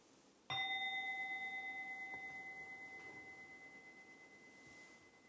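A single bell is struck once, giving a bright metallic ring with pure sustained tones that slowly fade over several seconds in a quiet room.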